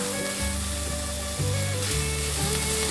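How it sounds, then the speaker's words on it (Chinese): Carrot strips and shiitake mushrooms stir-fried in a wok for a vegan cabbage and glass noodle dish, with a steady close sizzle and a low hum throughout and a louder burst partway through as the food is tossed. "放入香菇， 快速翻炒"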